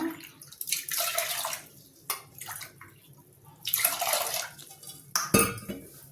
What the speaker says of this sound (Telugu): ఇప్పుడు ఒక గ్లాస్కి నేను మూడు గ్లాసులు నీళ్లు పోసుకుంటున్నాను